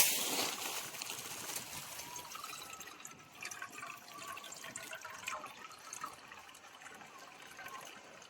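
Fresh spring water trickles steadily at a forest spring, a continuous close splashing wash with no pauses.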